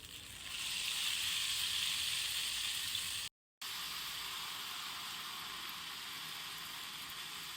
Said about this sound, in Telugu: సో మనం ఆయిల్లో ఇలా కొద్దిగా పిండి వేసుకుంటూ ఉండాలన్నమాట.